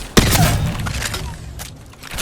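Weapon hip-fire shots from Apex Legends ring out in a quick burst of sharp, loud, close reports, then a brief mechanical tail fades away.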